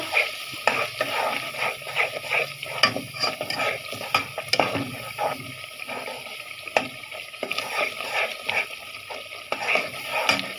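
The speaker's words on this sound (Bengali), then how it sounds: "ভাজা ভাজা করে আমি পানি দিয়ে আবার কষাবো এটাকে" Packaged biryani spice mix frying in a pan, with repeated scraping strokes of a spatula over a lighter sizzle in an uneven, rhythmic stirring pattern, close and without speech.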